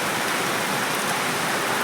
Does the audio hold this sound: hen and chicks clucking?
no